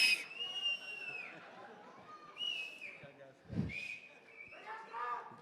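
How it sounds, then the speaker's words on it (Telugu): At an event, a few short, thin whistle attempts break into airy breath, separated by gaps, over faint crowd murmur. "ఒక్క నిమిషం ఉత్త గ్యాసే సౌండ్ వచ్చిందా విజిల్ రావట్లేదు."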